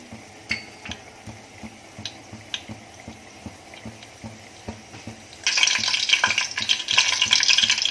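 Mustard seeds and curry leaves hit hot oil with a steady run of ticking pops, then break into a loud, dense sizzle for the last couple of seconds.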